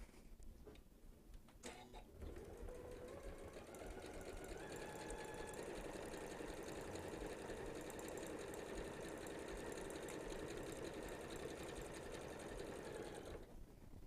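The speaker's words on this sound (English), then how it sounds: "Now I'm going to sew down that open edge on the machine." A sewing machine runs steadily along the open edge of a holiday stocking, a continuous fast whirring stitch that starts after a couple of faint clicks and holds for about eleven seconds before stopping, close and alone.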